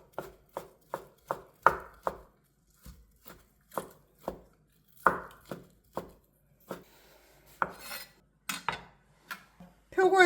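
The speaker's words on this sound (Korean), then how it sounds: "표고 채 썰어 볼게요." Shiitake mushrooms being sliced into thin strips on a cutting board, a series of crisp knife chops in quick bursts with short pauses, close and clear, no talking.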